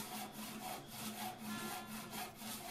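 A hand saw cuts wooden boards to length for a laminated Moxon vise chop, steady rhythmic back-and-forth strokes about two per second, close and loud with no talking.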